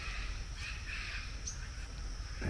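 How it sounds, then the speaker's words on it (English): Birds call outdoors in rural Brazil, where parrots, parakeets and macaws fly about; harsh caw-like calls sit over a steady hiss of insects and background noise, moderately distant. "He hears all these birds."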